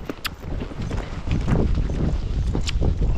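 Horses in a training string breaking into a canter, hooves drumming on the ground in a quick steady rhythm, close and fairly loud, with outdoor noise behind.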